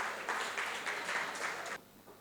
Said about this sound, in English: Please give the Governing Council a round of applause.